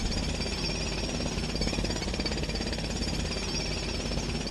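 Jackhammer breaking up a road in the game Road Works Simulator, hammering continuously and loudly throughout in a rapid, unbroken rattling pulse with no speech.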